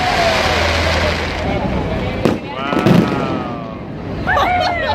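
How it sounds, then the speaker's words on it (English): Fireworks burst near a cathedral amid a noisy outdoor crowd, with a couple of sharp cracks and a rumbling boom standing out over constant background chatter and whistling streaks. "to try to watch some of the fireworks."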